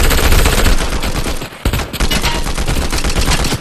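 Loud, continuous automatic gunfire in Fortnite, rapid close-range shots hammering almost without pause, with one short break in the middle before the firing resumes.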